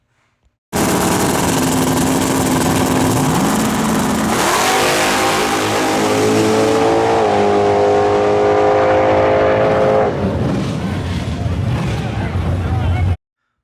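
Outlaw drag race cars launch at Shadyside and roar down the track, a sudden loud engine blast with rising revs and gear-change steps over about twelve seconds, then cut off abruptly.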